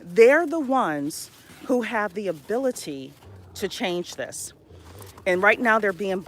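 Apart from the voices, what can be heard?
None of the usual background noises is heard.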